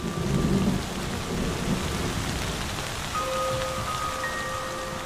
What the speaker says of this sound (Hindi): सीजन बदलता है और बारिश शुरू हो जाती है।